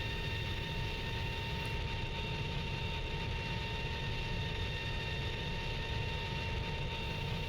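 In the Strike Fighters 2 flight sim, a jet fighter runs in full afterburner with a steady, low, rumbling engine roar and faint high whine, unbroken throughout.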